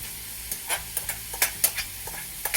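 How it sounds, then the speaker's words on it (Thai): Shiitake mushrooms stir-fry in rendered pork fat for a spring roll filling, a soft background sizzle broken by a quick series of close spatula scrapes and clicks against the pan. "ใส่เห็ดลงไปก่อนครับ เห็ด เห็ดหอมของเรานะ"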